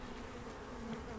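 Honeybees buzzing at a hive, a dense steady hum of many wings close by, faint and continuous with no voices.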